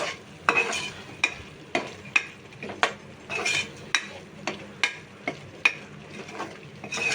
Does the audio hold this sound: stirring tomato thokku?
yes